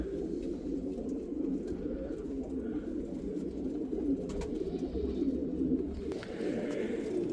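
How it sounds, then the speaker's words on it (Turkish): Yanardöner pigeons coo and murmur continuously at close range, with a dense flock sound and no talking. "Bakın Sayım Usta'nın yanar dönerleri arkadaşlar"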